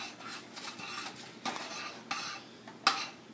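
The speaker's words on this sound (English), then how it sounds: "then you'll stir to blend them in and get it well coated" Rice Krispies are stirred in a pot to coat them, a faint, steady scraping and rustling of cereal with soft spoon clinks and one sharper clack near the end, heard close and alone.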